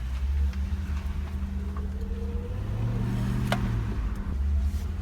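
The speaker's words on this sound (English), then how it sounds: "we're going for a test drive" An ex-police car on a test drive gives a steady, moderately loud road drone with low engine hum and tyre rumble throughout, rising slightly in pitch midway as it accelerates.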